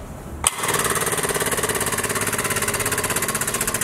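A Mittler Bros 2500 HD air-over-hydraulic tube bender kicks on with a sharp burst, then its pump drives on in a fast, even, pulsing chug that stays steady and close, with no one speaking.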